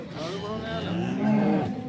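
A cow at a cattle market in Sangola lows nearby, a deep, drawn-out moo rising near the end over a faint murmur of background activity.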